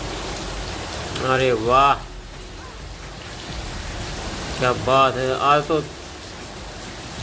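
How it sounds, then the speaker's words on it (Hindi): A heavy nighttime downpour soaks a village, a dense, steady roar of rain filling the whole stretch while someone speaks over it in two short bursts. "ज़बरदस्त बारिश हो रही है।"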